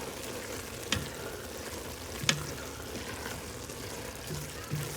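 Onions and seasoning sizzle and fry steadily in a pan for a crawfish étouffée, a soft continuous crackle broken by a few sharp clinks of stirring at close range, with no talking.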